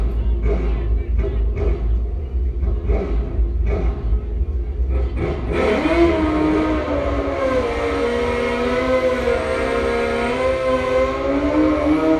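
Drag racing motorcycles launching down the strip at a season-opener event, loud engine roar with rising, sweeping whining pitch as the bikes accelerate away, over a steady crowd-and-track background.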